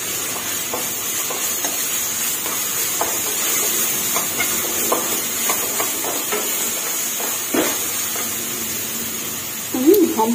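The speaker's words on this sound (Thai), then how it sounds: "ใส่พริกลงไปผัดให้หอมค่ะ" Steady sizzling and hiss of chili stir-frying in hot oil in a pan, with occasional scraping stirs and faint clatter throughout.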